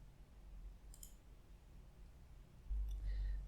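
A computer mouse right-click in a quiet room while working in Visual Studio 2022, heard as two faint, close clicks, one near the start and another near the end, with no talk.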